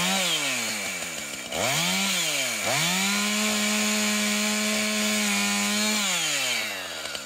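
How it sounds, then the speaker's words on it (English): A chainsaw cutting through wood, loud and close, running at a steady whine that dips twice as the revs drop under load, then settles into a long even cut before easing off. "not supposed to hold the chainsaw with one hand"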